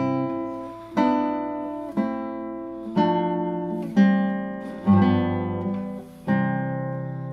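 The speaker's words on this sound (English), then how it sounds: "And then we get this beautiful chord progression at the end." A chord progression on classical guitar: six full strummed chords spaced about a second apart, each left to ring and fade before the next, close and unaccompanied.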